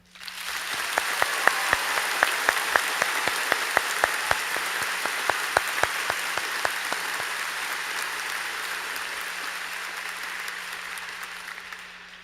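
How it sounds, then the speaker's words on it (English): A large audience at a 2022 high school graduation ceremony applauds, starting abruptly with sharp individual claps standing out and building into a dense, sustained ovation that slowly tapers off. "please join me in a massive round of applause"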